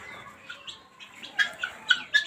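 Guinea fowl in a coop give a few sharp, high chirping calls in quick succession, fairly faint, with soft rustling between them and no talking.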